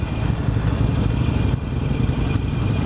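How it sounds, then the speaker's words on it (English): A Harley-Davidson Iron 883 motorcycle engine runs steadily at idle, a loud, close, throbbing rumble with a brief dip midway and no talk. "First time riding an 883."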